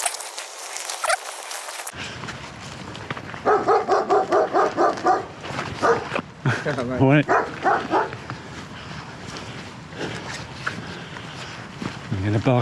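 A dog barks repeatedly at a cyclist on the muddy towpath of the Grand Union Canal's Aylesbury Arm, a quick string of close, sharp barks followed by scattered single barks, with someone talking and rustling movement around it.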